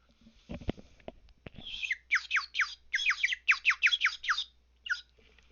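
A water-filled bird whistle, blown into one side, produces a rapid series of warbling, trilling chirps imitating bird song, loud and close after a few soft knocks, ending with one last short chirp.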